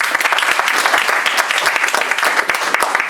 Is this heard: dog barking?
no